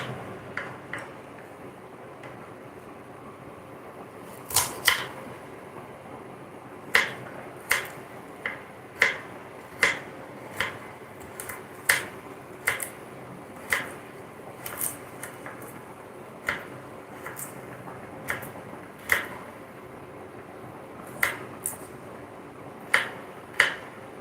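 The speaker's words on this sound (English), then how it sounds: "Chop carrots this way. One corner. I always use a blunt knife so I don't cut my hand." A blunt knife chops carrots on a cutting board, giving sharp, evenly spaced taps roughly every second over a faint steady background, close and clear with no talking.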